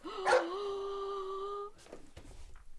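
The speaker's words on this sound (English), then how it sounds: "I just saw a wild dog run through the alley." A wild dog lets out one loud, sustained howling bark that holds steady for over a second, then gives way to quieter shuffling and faint movement noise.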